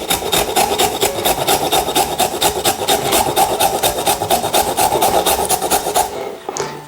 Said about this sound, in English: From that, I want you to grate your ginger.